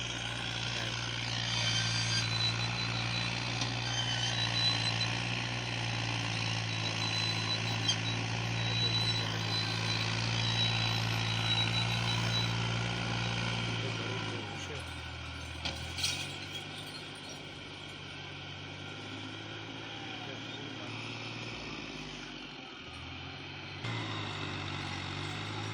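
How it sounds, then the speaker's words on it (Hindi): A tractor engine hauling church construction material and sand up a mountain, a steady low droning rumble that drops and thins midway before continuing more quietly. "बड़ी तगो-दो के बाद ये ट्रैक्टर पहुंच आया है"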